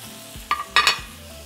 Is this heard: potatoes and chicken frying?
yes